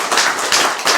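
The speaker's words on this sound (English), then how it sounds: "A big round of applause." Audience clapping in a kitchen setting at a Burns Supper event in Aberdeen, a short burst of dense, close applause with slight swells in intensity.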